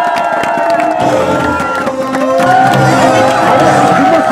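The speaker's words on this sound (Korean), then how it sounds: "수현 선수 입장한테 큰 박수!" A baseball stadium crowd at a Nexen versus Samsung game loudly cheers and applauds as the star player enters. The roar is dense and continuous and swells slightly toward the end, with overlapping voices and shouts.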